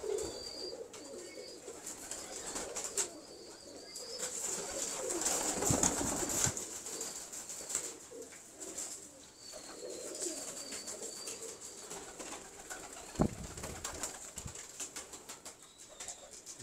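Teddi breed pigeons cooing softly at a loft, faint repeated low coos with occasional wing flutters and light rustling, fairly distant and quiet.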